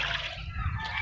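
Catfish being rinsed with water in a kitchen, giving a short burst of sloshing and splashing liquid, close and moderately loud, with faint background noise.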